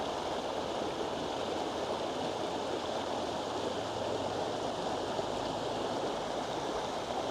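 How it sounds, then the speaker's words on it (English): The River Sence flows along a footpath at a stile, its water rushing steadily in a dense, even broadband wash that holds unbroken throughout, with no voices heard. "Quite a nice lot of water flowing through it today."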